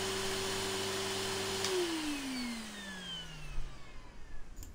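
A gravity vacuum cleaner from the video game Reverse: 1999 hums steadily, then its motor pitch slides down as it powers off, leaving a faint hiss and a few soft clicks, with no talking.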